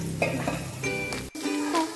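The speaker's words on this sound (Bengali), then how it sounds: "ওটাকে ভেজে রেখে এবার ক্যাপসিকাম ভাজা হচ্ছে।" Capsicum fries in a pan at an outdoor picnic, a steady close sizzle with a few brief stirring clatters and a short break near the end.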